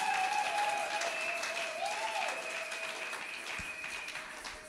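A church congregation claps steadily at a moderate distance, the applause fading gently toward the end beneath sustained tones.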